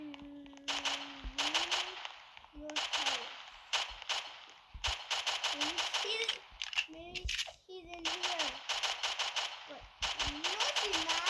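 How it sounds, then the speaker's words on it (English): Gunfire in the Roblox game Brookhaven, heard as rapid bursts of sharp, clicky game shots in repeated volleys, loud and close, with children talking over it. "get the guns out, Lena"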